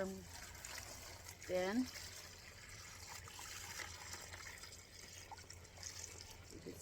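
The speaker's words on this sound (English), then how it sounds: "I'm going to add some water" Water trickles and gushes into a bucket of shredded newspaper for a worm farm bin, a faint steady pour with a brief louder splash, and someone speaks over it.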